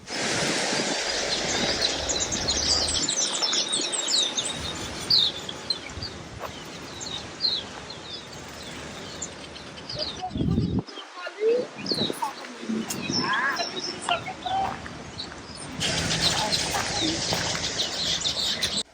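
Birdsong in the grounds of Spier vineyard in South Africa, among old oak trees, varied plants and bamboo groves, with scattered chirps and calls over a steady outdoor background and some wing flutter.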